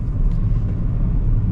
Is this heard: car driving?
yes